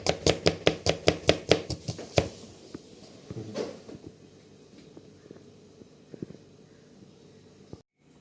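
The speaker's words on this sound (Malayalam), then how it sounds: "നമ്മൾ ഉള്ളി അല്ല ചെറുതാക്കി വരട്ടെ" A knife chops onions on a board: a quick run of about a dozen crisp, evenly spaced chops up close, followed by quieter scattered knocks and handling noises.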